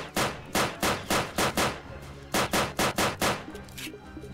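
Repeated bursts of video-game gunfire in a Roblox tycoon shooter, about a dozen sharp shots fired in irregular clusters, loud and close, with quieter tails trailing off at the end.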